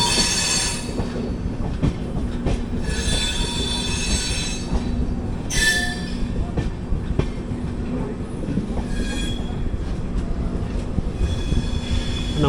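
Kondaveedu Express passenger train rolling into Yelahanka Junction, a steady rumble of wheels and carriages with intermittent high metallic wheel squeals, heard close and continuous without talk.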